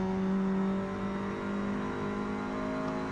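An Alpine A110 engine drones steadily in Forza Motorsport on the front straight of Virginia Raceway, a loud sustained tone that dips slightly in pitch after a brief peak, running alone without voices.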